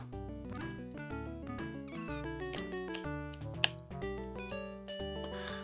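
In the SNES game SimAnt, a synthesized cat meows over busy chiptune music, the meow standing out briefly partway through the loop.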